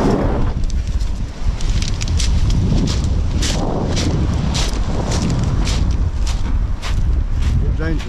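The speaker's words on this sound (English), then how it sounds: "whilst it's a little bit windy" Steady wind buffets the microphone with a constant low roar at an outdoor fishing campsite, while intermittent crackling or rustling comes through over it.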